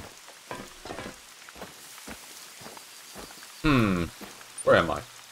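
Rain falls in a video game as a steady, soft patter behind spaced footsteps. Two louder bursts of movement noise land near the end.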